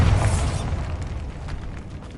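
A Bombarda blasting spell goes off in the Hogwarts Legacy video game as a single loud, deep boom right at the start, its rumble fading over the next two seconds with faint debris crackle.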